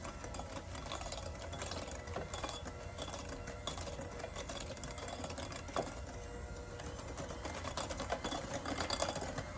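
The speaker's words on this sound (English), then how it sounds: "And I'm going to give this a mix." Banana bread batter is being mixed with a steady, close mechanical whirring and a rapid rattling texture that runs continuously at an even level throughout.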